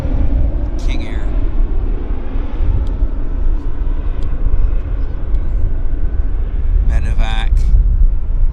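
Beechcraft King Air turboprop at Vancouver International Airport, a loud continuous engine roar and rumble filling the scene, with brief chirps and voices over it.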